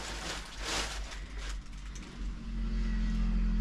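Cars driving past outside a burnt, abandoned hotel, a muffled swell of passing traffic that fades and then builds into a louder, closer low rumble, with no talk.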